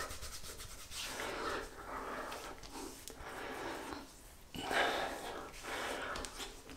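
Shaving cream, a thick Spanish Leather cream, is worked into the face and neck by hand, giving soft, close, continuous rubbing and squishing with occasional breaths.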